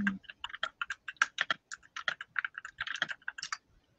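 Rapid, close typing on a computer keyboard during an online English lesson: a dense, steady stream of crisp keystroke clicks for about three and a half seconds, heard on its own without voices.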